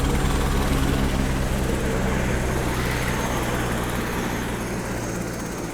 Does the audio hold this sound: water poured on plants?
no